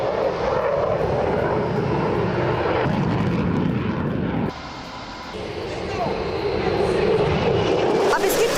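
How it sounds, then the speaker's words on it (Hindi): An F-16 fighter jet flies during training in Denmark, producing a loud, continuous engine roar that dips briefly midway before swelling again, with a voice speaking over it. "डेनमार्क में F-16 की ट्रेनिंग का बाकायदा वीडियो सामने आया है।"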